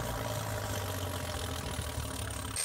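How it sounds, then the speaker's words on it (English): A Dresda TD25 Series 2 bulldozer with a 330-horsepower engine runs at a steady idle: a constant, close, low droning hum with a faint high whine above it, and no talk. "the Dresda TD25 Series 2 Bulldozer is a top performer, with its 330-horsepower engine and advanced blade control system"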